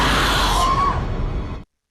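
A woman's scream in an Indonesian horror film, loud, strained and sustained for over a second before cutting off abruptly into silence.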